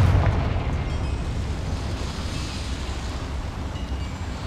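A Confringo fire spell explodes in Hogwarts Legacy with a loud, close burst at the start, followed by a sustained, rumbling roar of debris and crackle that fades slowly.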